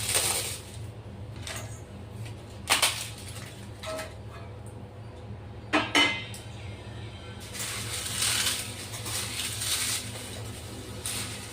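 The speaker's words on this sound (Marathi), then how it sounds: "ते पापड आपण आता चिरून घेणार आहे" Crisp papad, a batch of eight to ten lentil wafers, being cut up by hand, giving scattered sharp crackles and snaps with a longer crunchy stretch near the end, all over a steady low background hum.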